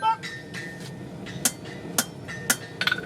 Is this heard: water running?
no